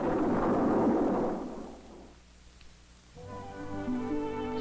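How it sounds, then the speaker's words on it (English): Thunder rumbling from threatening storm clouds, a loud, deep, rolling swell that fades before a musical score takes over. "Dense and heavy clouds block out the sun and turn into threatening storm clouds."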